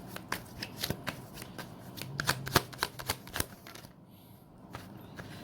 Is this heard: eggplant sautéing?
no